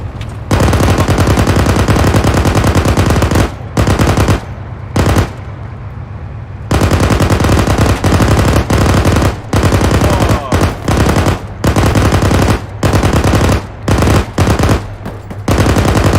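Loud machine gun fire in a video game rattles in long sustained bursts, close and harsh, broken by short pauses and a few quieter gaps over about sixteen seconds.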